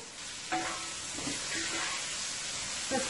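String beans and other vegetables, with onions to come, sizzle as they fry in a pan, a steady close hiss of frying with a few soft stirring clanks over it.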